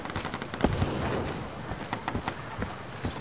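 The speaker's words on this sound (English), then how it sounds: "That was me shooting up near the air." Rapid gunfire fired into the air in the Insurgency video game: a quick burst of shots followed by scattered cracks and pops over a steady wash of battlefield noise.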